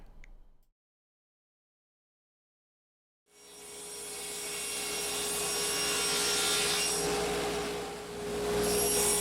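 A power saw in a woodworking shop cuts into wood pieces for a pen project, a loud, steady rasping whine building after a short silence and holding for several seconds, close by.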